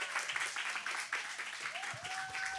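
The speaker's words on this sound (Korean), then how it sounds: "우리 모나 씨께 다시 한번 여러분 큰 박수 부탁드리겠습니다" An audience at a Korean live show gives steady, dense applause throughout, a continuous patter of many hands at fairly close range with faint tonal sounds mixed in.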